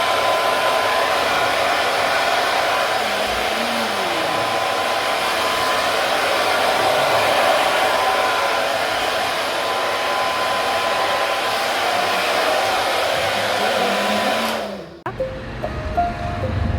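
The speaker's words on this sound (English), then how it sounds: "we're drying the gel with a hair dryer" A hair dryer blows with a loud, steady whooshing hum close by, then cuts off abruptly near the end.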